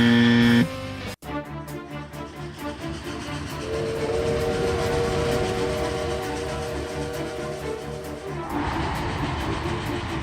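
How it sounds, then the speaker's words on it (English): A train rumbling past in the video game Persona 5 Tactica, a steady rolling clatter with a sustained whistle tone swelling in the middle, loud and continuous with no talk. "Is that a train?"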